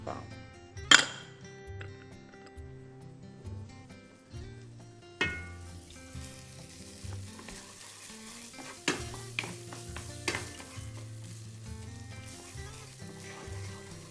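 Rice is stirred in an unheated frying pan for a dish of green beans, rice and tomato, making scattered scrapes, soft rustles and light metallic clinks, with someone talking in between.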